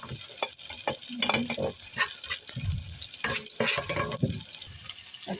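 Chopped onion and garlic sizzle in olive oil in a pan while being stirred, a steady crackling fry broken by scraping and clinking of a utensil, close and continuous.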